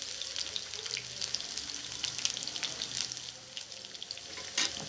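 Chopped garlic sizzles in a pan over a spirit stove while Alexandrian sogok sausage is cooked, giving a soft, steady crackling hiss with scattered pops, close and alone.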